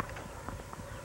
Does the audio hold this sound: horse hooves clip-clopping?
yes